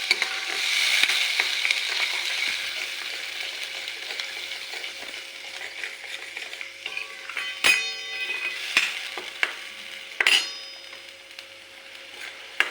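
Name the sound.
roasting coconut in oil while stirring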